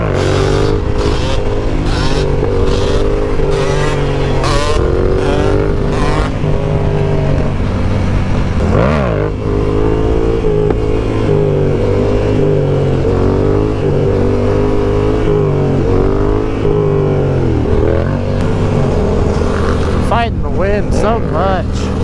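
A Yamaha R7 sport motorcycle engine drones loudly and continuously while riding, with rising and falling pitch as the revs shift and strong wind noise over it, and a rider's voice talking throughout.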